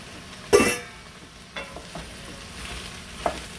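Sausage and potatoes are stirred in a cast iron Dutch oven: one sharp scraping stir, then several softer scrapes and clinks over a faint sizzle, close up with no talk.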